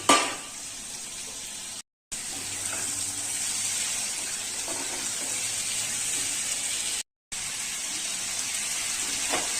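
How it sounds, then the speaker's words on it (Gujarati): Washed papdi beans and chopped tomatoes hit a pan of frying masala, giving a loud, bright, continuous sizzle broken by two brief gaps of silence. "હવે એમાં પાપડી ધોયેલી છે નાખી દઈએ।"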